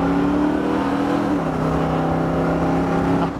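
A 1967 Ford Mustang Fastback GT350 tribute, originally a 390 car, accelerates hard with a loud, steady engine roar and a pitch that dips slightly partway through, with no talk over it.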